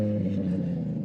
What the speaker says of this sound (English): Mind your back, there are cars coming through here.